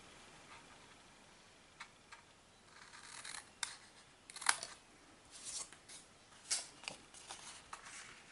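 Scissors snip off squares of paper for a jumbo sticky note holder craft: quiet, close, irregular clicks and crisp cuts, growing busier and sharper toward the middle and end.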